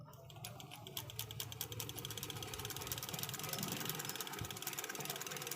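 A sewing machine runs steadily while test-stitching with silk thread, a continuous close mechanical whir with a fast rhythmic clatter of the needle, alone without voices.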